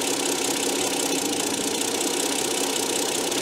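A Kia Carnival's engine runs at a steady idle, close and continuous, with a dense mechanical hum and faint ticking texture and no talk over it.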